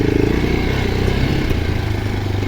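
A Geon X-Road Light 250 motorcycle grinds along rough off-road ground in first gear, its mid-pitched engine throbbing loud and steady with rattling clatter from the bike over bumps.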